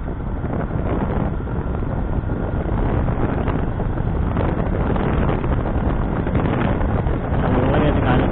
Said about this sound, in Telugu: చల్లగా అయితే గాలి అయితే వస్తుంది